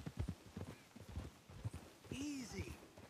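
Horses' hooves clip-clopping on a road in Red Dead Redemption 2, a steady walking rhythm of soft thuds up close, followed by a horse's brief whinny and snort near the end.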